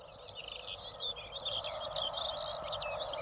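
Half-grown Eurasian hobby chicks, about fifteen days old, give continuous high, rapid chirping calls in open Iberian countryside in mid-August, close and steady with no talk.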